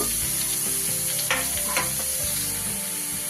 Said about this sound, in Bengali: গ্রেট করে রাখা বাঁধাকপিটা দিয়ে দেব।